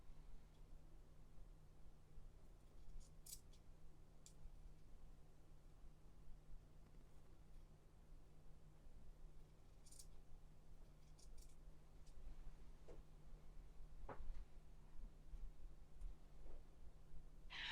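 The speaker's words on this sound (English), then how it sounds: "So I'm trimming these entire seams that I just sewed at 1/4 inch back to an 1/8 inch." Scissors trim freshly sewn fabric seams down from a quarter inch to an eighth, giving a few faint, sparse snips and clicks against a quiet room hum.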